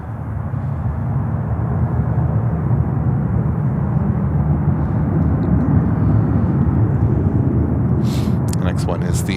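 An Embraer 175 jet arriving from Key West rumbles as a steady, loud, broad engine roar throughout, with a voice briefly speaking near the end.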